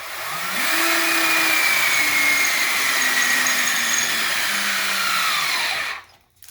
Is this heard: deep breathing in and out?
no